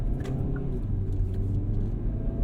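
Engine and road rumble from a 2022 Hyundai Veloster N hot hatch heard from inside while driving in normal mode, a steady low drone without talk.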